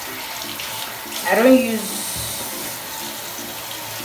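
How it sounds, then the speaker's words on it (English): Water runs from a bathroom tap while someone washes their face, a steady splashing hiss with a brief louder splash, and someone speaks briefly. "So I'm gonna try to wash my face, even though I'm quite scared."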